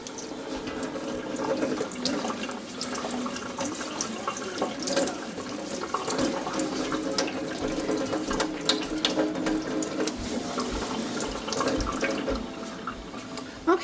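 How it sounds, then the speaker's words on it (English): Steady running cold water from a tap splashes into a sink while roses are rinsed, with small irregular spatters and drips throughout, close and continuous with no talking. "We're just going to give them a quick rinse with some cold water."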